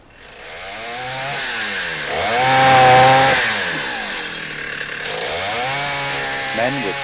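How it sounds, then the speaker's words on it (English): A chainsaw cutting down trees, its engine droning loudly and steadily throughout, with rising and falling revs as it bites into the wood and swelling to a peak partway through. "with saws and bulldozers came along and chopped up the trees"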